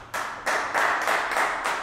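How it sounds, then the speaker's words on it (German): A small audience at an art gallery event for modern painting and sculpture breaks into brief applause, a few bursts of hand claps close by that quickly settle into steady clapping. "Und mal einen herzlichen Applaus."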